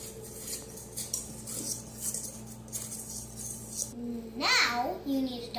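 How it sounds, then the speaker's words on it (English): A whisk clatters against a bowl while pancake muffin batter is mixed, producing rhythmic metallic tapping and scraping close by, with a voice babbling over it near the end. "Now I need to whisk it."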